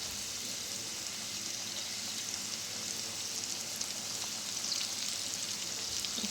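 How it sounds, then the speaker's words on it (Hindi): Raw chicken tender pops frying in oil over a very low flame, giving a steady, quiet sizzle with light crackle throughout and no talking. "अब हम एक एक कर जो है इसको फ्राई बिल्कुल लो फ्लेम पे, चिकन कच्चा है ना, वो अच्छी तरह कुक हो जाए।"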